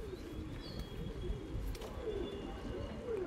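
Soft pigeon cooing mixed with faint bird calls over a steady low background rumble, no voices present.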